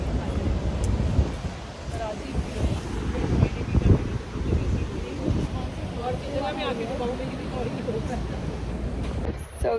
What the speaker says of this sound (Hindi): The waves are so gorgeous.